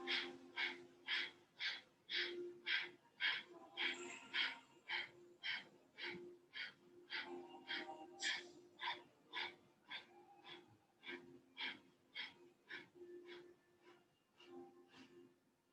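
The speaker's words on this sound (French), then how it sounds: "Donc ça fait une respiration assez courte." Short, forceful yoga breathing exhalations, about thirty sharp nasal puffs in a fast, even rhythm, close and fairly soft, with no speech over them.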